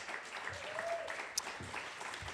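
Applause from an evening audience at a Queer Académie event, a steady broadband patter of many hands filling the whole stretch at moderate level, with a faint voice briefly audible beneath it.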